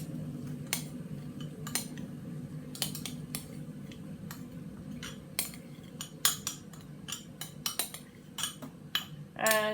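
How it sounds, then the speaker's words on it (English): Chickpea dal, eggs, curry powder and cooked rice are stirred together in a bowl, with a steady run of sharp utensil clinks and scrapes against the bowl over a low background hum, getting busier toward the end. "give that a really good mix"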